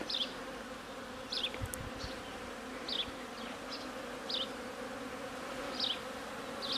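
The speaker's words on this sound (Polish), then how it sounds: "I pszczoły wyszły na pierwszy oblot" Honeybees flying out of the hive buzz and hum steadily in the background, with faint recurring chirps that are probably birds calling in the distance.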